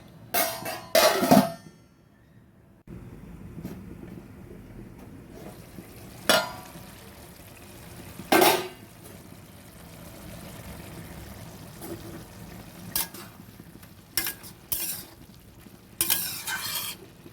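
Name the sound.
stir-frying banana flower (mocha) in a pan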